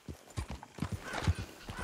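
Horse hooves clip-clop at a steady walking rhythm in Red Dead Redemption 2, about a dozen close, distinct hoof falls with a faint whinny-like tone among them and no talking.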